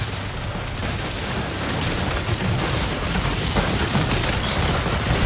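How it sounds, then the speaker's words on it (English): Dense gunfire and rumbling explosions fill a battle in Death Stranding 2, a loud, continuous barrage of bursts and booms that swells toward the end, with no voices. "Opening fire now."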